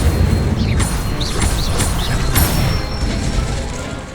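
Fiery spell impacts hitting a training dummy in Hogwarts Legacy: a run of bursting whooshes and crackling blasts, several hits in quick succession over a rumbling bed, loud and close with no voices.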